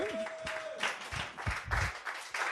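Church congregation applauding, a steady wash of many hands clapping with some crowd noise and a brief voice at the start, heard at moderate distance.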